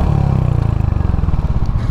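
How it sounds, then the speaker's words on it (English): A 2023 Royal Enfield Hunter 350 motorcycle puts out a loud, close exhaust note, a deep, rapid pulsing thump that runs steadily throughout with no one speaking. "But the exhaust note sounds pretty good."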